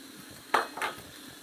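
Food for a chicken enchilada casserole is stirred in a pan, with two quick scraping, sizzling strokes close by over a quiet low hiss.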